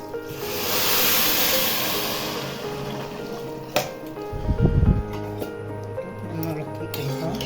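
Boiled water is poured into rice frying in a pot for biryani, giving a loud rushing hiss that fades into bubbling and clatter, with speech throughout.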